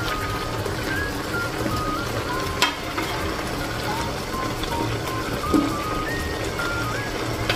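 A cooking pot of soy sauce with eggplant boils and sizzles steadily up close, with a continuous bubbling hiss and a couple of faint clinks.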